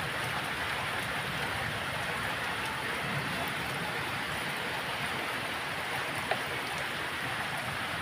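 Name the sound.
rain falling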